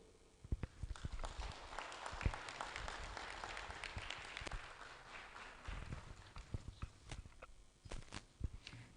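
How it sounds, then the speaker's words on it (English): An audience at the BrandCon Africa 2022 conference applauds a speaker, producing a faint, sustained patter of clapping with scattered sharper claps across the whole stretch, sounding distant. "Please let's give him another round of applause."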